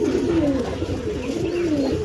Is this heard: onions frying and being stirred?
no